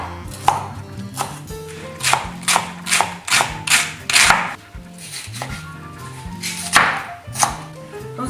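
A knife chops assorted vegetables such as carrots and green beans into regular pieces on a board, giving a dozen or so crisp, close thuds in an uneven rhythm with brief pauses between bursts.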